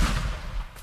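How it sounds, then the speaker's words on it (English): A single boom goes off in a sandbox video game, a broad muffled blast that fades over under a second. "That's it. Explosion."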